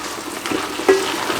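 A vegetable mix stirred in a cooking pot, a brief close sizzling scrape with a soft knock of the spoon partway through.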